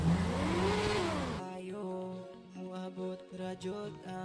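A motorcycle engine revs hard for about a second and a half, its pitch swelling and falling, then cuts off as music with singing takes over.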